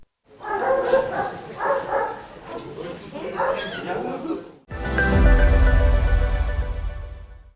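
Belgian shepherd puppies from a litter of five barking and yipping in short clustered bursts over several seconds, then a louder broadband burst of noise takes over; a voice is heard talking alongside.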